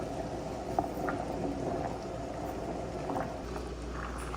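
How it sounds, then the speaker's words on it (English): Grape jelly mixture boils in a pot on the stove, giving a soft, steady bubbling hiss with faint scattered pops, heard close and fairly quiet with no voices. "when I stir it, it still is bubbling, and these bubbles are not going away while I stir it"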